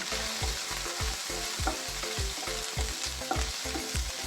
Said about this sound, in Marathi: थोडासा कांदा भाजल्यानंतर त्यामध्ये वाटाणे टाकून भाजून घेऊ.